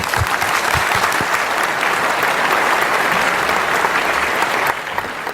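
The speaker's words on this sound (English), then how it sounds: "Let's thank them once again with our warmest applause." Loud, sustained audience applause at a Hong Kong gathering, many hands clapping in a dense, even roar that eases slightly toward the end.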